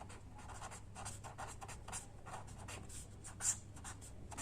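Pen or marker writing and drawing an arrow, with short scratchy strokes repeating in quick bursts, close and quiet, with no voice.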